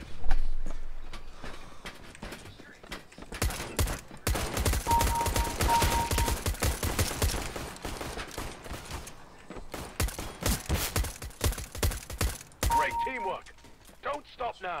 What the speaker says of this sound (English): I'm getting shot through the fucking wall.